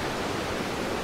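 Big Creek rushes steadily beneath a trail bridge at the end of a backpacking route, a dense, even, broadband water roar close by with no pauses across the short stretch.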